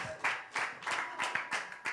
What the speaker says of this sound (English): my favorite moment was obviously when everybody started clapping